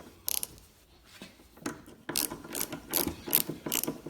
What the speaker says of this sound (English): Try and tighten that one up too.